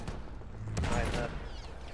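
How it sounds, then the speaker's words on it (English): Gunfire in the Battlefield 1 video game comes as a short volley of distant, muffled shots over a low rumble, with a player's voice talking. "Where are those shots coming from?"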